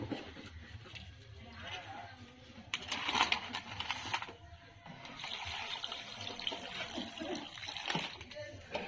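Meat pieces, trotters for a village-style curry, washed in water in a clay pot, with intermittent splashing, trickling and swishing close by while people talk over it throughout.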